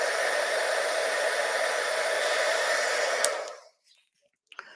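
A heat tool blowing hot air to melt embossing powder on a card makes a steady loud breathy whoosh for several seconds, then shuts off into near silence with a faint click.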